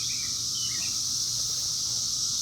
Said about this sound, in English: This is the 17-year cicada.